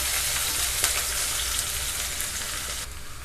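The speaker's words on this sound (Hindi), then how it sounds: "अब इसमें हम एक मीडियम आकार का प्याज बारीक कटा हुआ डाल देकर अच्छे से भून लेंगे" Finely chopped medium onion frying with cumin seeds in a pan for a green pea dal, a loud, steady, close sizzle throughout with no talking.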